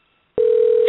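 A steady telephone dial tone sounds alone after a call is hung up, starting abruptly after a moment of silence and holding at constant loudness, with a slight click near the end.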